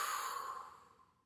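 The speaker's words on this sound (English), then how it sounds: "then we'll take another deep breath." A young child takes a deep breath during a morning meditation, a soft sighing exhale that fades out over about a second, alone and quiet.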